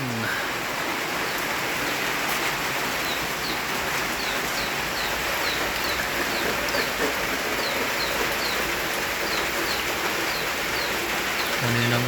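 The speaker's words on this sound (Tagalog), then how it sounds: "umaga pa to na ulan titila siya ng konti tapos biglang ulan ng malakas" Heavy rain pouring down in a steady, unbroken hiss that stays loud throughout, with faint bird chirps scattered over the downpour.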